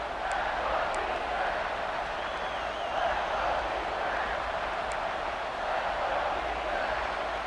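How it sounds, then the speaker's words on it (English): A football stadium crowd roars in a steady, dense wash of noise at a big game, with a broadcast commentator's voice faintly under the din and a few sharp whistles or shouts poking through. "let's see if they can even operate in this noise"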